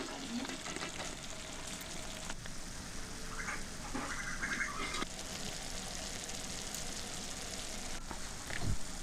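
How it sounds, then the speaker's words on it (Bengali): Mustard paste fries in oil for a Bengali bhola fish curry with Kashmiri chilli powder, a faint, low sizzle that stays steady, with a few brief clinks and soft kitchen noises over it. "সর্ষে ভাজা হয়ে গেছে, সর্ষেটার থেকে তেল ছাড়ছে সাইডে সাইডে"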